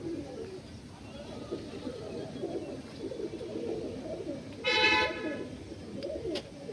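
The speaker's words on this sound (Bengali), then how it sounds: "এই হচ্ছে পায়রা," Andhra pigeons coo softly in the background amid steady low noise, with a brief horn-like toot sounding partway through.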